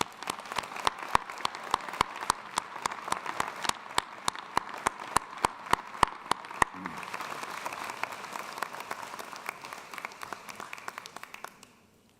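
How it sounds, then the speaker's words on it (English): At a 2022 university commencement ceremony in an arena, a large crowd claps in a steady, evenly spaced rhythm, sharp regular beats that give way after about seven seconds to a softer, scattered wash of applause. "can we please give all of them a warm round of applause?"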